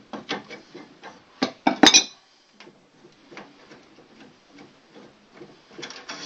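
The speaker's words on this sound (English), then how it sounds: "I'm using this spanner to hold the fitting while I slacken the" Spanner and metal fittings on an outside tap clicking and clanking as a nut is slackened on copper pipe, a series of close, sharp metallic ticks with a louder clatter near the middle, then quieter intermittent clicks.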